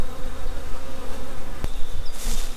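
Bees buzz loudly around big beehive boxes set out on a farm, a dense, continuous drone close by with one sharp click near the middle and no talk.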